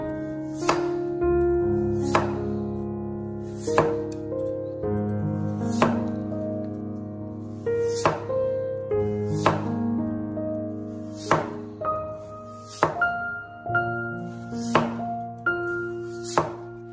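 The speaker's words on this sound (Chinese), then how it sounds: "切丝的时候一定要使用推拉刀，这样切才不容易跑刀" A kitchen knife shreds potatoes into thin strips using a push-pull stroke. Crisp, evenly spaced chops land on a cutting board about every two seconds over a soft, steady musical background.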